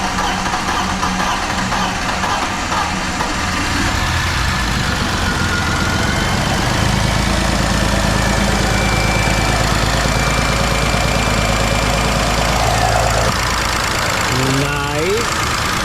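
A BMW E46 engine idling with a slight misfire, a steady, close, continuous rumble with subtle unevenness throughout and a brief squeal-like sweep near the end.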